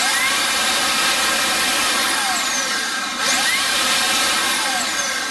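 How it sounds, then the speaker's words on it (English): A Makita DAS 180 brushless cordless electric air duster blows loudly and close, a continuous high whirring rush whose pitch sweeps up and down, briefly dipping about midway. "So me personally, I've used this Makita DAS 180. This is a brushless motor based on"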